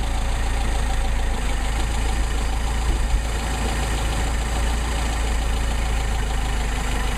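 A Mercedes 190SL engine idles steadily as its Solex carburetor is adjusted, a dense, continuous rumble heard up close with a strong low hum and no pauses.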